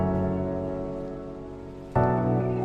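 Steady rain patters on a surface, a soft continuous hiss that suddenly grows louder and denser near the end.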